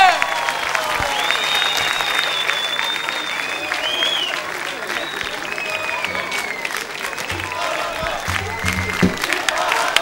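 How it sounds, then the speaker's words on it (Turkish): Loud, continuous studio audience applause on a Turkish TV entertainment show in 2005, dense clapping with crowd noise and some cheering, voices faintly audible underneath. "Sizlere alkışlıyoruz."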